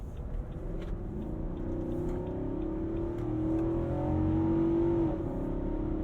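A 2022 Nissan Armada SUV is pushed hard into a corner with traction control off, its engine droning loudly and rising in pitch as it accelerates, with tyre and road noise beneath and no talking.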